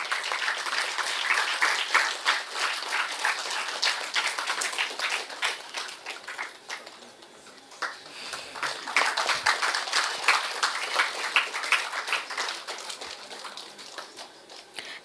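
Prolonged audience applause at a college valedictory function, many distinct hand claps in a lively ongoing patter, briefly dipping midway before picking back up and continuing steadily.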